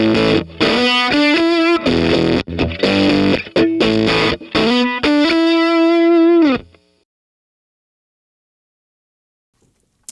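Gained-up, distorted electric guitar plays a choppy riff of short chords and notes through a JHS Colour Box, ending on a held note that cuts off, leaving silence.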